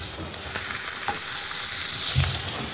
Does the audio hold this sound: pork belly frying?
yes